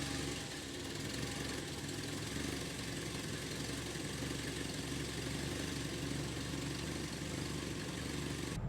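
Turbocharged Toyota Hilux engine idles after its wastegate was reinstalled, a faint continuous rumble with an uneven knocking pulse and no talking.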